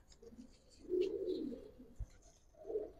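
A female Giribaz pigeon coos softly at close range, two low murmuring coos separated by a short pause, with no voices over them.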